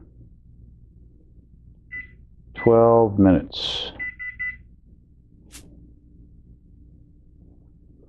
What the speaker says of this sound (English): I'm going to set the timer,